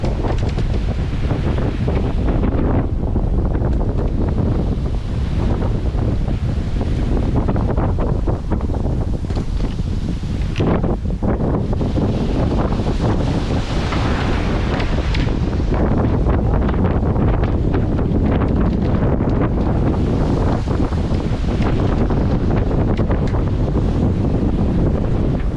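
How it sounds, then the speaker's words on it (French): A strong 28–30 knot wind roars over a boat at sea, loud and constant with buffeting gusts on the microphone and the wash of waves beneath, continuing unbroken throughout. "Bon, ça monte à 28-30 nœuds de vent."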